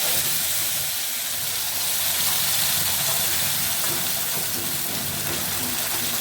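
Banana stem mash is added to hot mustard oil in a kadai and fries with a loud, steady, close-up hiss and sizzle that holds for several seconds without talk.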